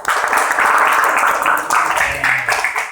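Classroom students clap together for a classmate, a steady, close burst of group applause lasting a few seconds, with faint voices mixed in.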